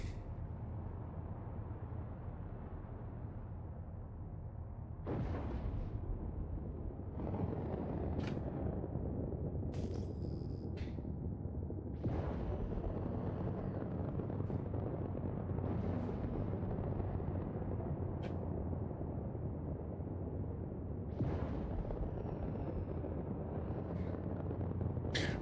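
Missiles launch and explode in a Star Citizen ship battle, with a low, steady rumble broken by sharp bursts and booming impacts at intervals across the span.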